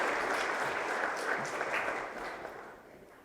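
Sustained applause from a school assembly crowd for Year 9 award recipients, an even wash of clapping that gradually thins and fades toward the end.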